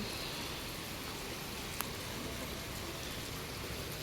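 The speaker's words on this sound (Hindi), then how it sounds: "1 घंटा हो गया बारिश आए, बहुत तेज बारिश आई है" Heavy rain hisses steadily and evenly, a dense wash of falling water with a single faint tick partway through, during an hour-long downpour that has flooded the street up to the house.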